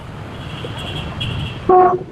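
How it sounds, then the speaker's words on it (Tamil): A train runs past on the Tiruppur–Palakkad line, steady rumble throughout, then a brief loud horn blast near the end. "நமக்கு ஆப்போசிட்ல ட்ரெயின் ஒன்று வந்துட்டு இருக்கு மக்களே"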